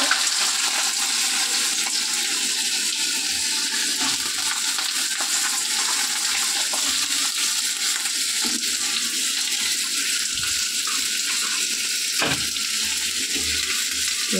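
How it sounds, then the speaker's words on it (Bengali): Chopped potatoes fry in hot oil, a dense, steady sizzle and crackle that fills the whole stretch, close and continuous, with a few light stirring knocks. "তেল বেশ গরম হয়ে গেছে, এবারে আলুটা কুচি রাখা আলুটা দিয়ে দেবো।"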